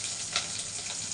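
Carrot pieces drop into a hot pan for tomato rasam and sizzle in a steady, close, loud hiss, with a brief swell near the start and no voices.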